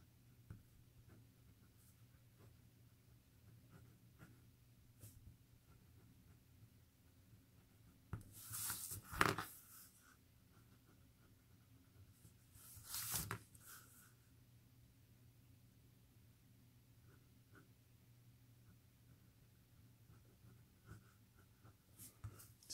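A ballpoint pen scratches across paper in two short bursts of soft, close writing strokes, separated by near silence in a quiet room.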